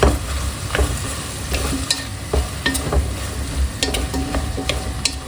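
Butter sizzles in a hot pan with meat and beans for Turkish kuru fasulye, a steady close frying hiss broken by scattered pops and crackles, with a few clinks of stirring and no voices.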